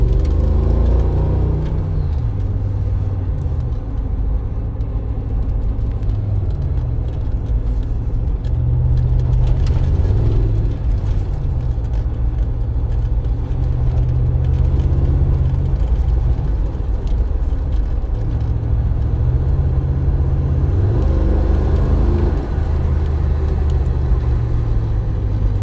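A 2007 Mercedes G55 AMG G-Wagon drives along with a loud, steady engine rumble and road whir heard from inside the cabin, continuous throughout.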